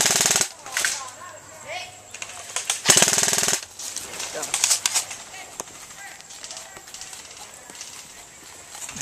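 Airsoft guns fire during an airsoft game, a rapid burst of close, sharp shots followed by scattered single pops outdoors, with people talking in between.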